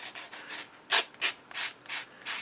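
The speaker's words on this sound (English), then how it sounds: "just give it a rub on a sanding block like so" Steady strokes of balsa wood rubbed on a sanding block, about seven rasping rubs in a regular back-and-forth rhythm, close and clear with no talking.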